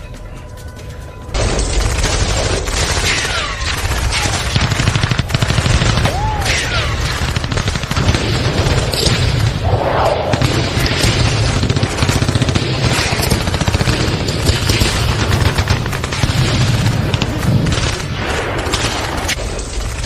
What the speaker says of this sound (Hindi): राजेश सर को जल्दी से कॉल करके बता दो कि यहाँ फायरिंग शुरू हो गई है।